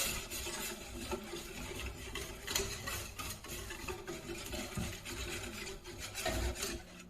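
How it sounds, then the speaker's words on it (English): Au jus sauce made from a seasoning pack is stirred in a pot, giving a steady, close scraping and rubbing that runs continuously for several seconds, with no voices. "go ahead and give it a nice stir around."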